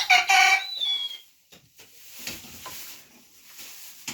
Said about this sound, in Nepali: यहाँ चाहिँ ओथारो बसेको कुखुरा छ हाम्रो एउटा